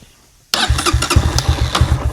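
A dirtbike engine cranks and catches, then settles into a steady, throbbing idle while its carburetor idle is adjusted. The rhythmic putter is close and loud, with no speech over it.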